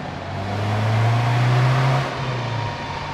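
A Peugeot 206 SW on a dyno with added turbo pressure revs hard, its loud engine tone climbing steadily, holding at full throttle, then dropping off abruptly into a lower drone.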